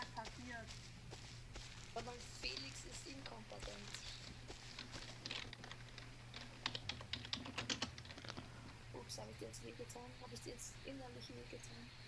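Rapid clicking of a computer keyboard during a German session of the game Rust, steady close keystrokes running throughout, with people talking over a low hum.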